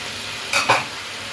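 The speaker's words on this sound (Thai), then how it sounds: "ผัดไปก่อน คลุกเคล้าให้เข้ากันก่อนนะคะ แล้วเดี๋ยวเราตั้งไว้ให้เห็ดสุกนะคะ" King oyster mushrooms stir-fried in a pan: a steady sizzle with a quick scrape and clatter of the utensil stirring through the mushrooms, close and fairly loud.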